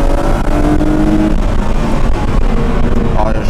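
Car fitted with a homemade dynamic air intake kit accelerates, its engine a steady, loud drone with a rising tone, close to the listener, while someone talks over it.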